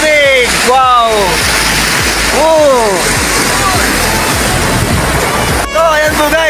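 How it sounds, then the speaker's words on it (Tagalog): The Maples River in Aguilar, Pangasinan rushes with a strong current, a loud continuous roar of flowing water with people's voices calling out over it. "Guys, lakas ng agos ng tubig."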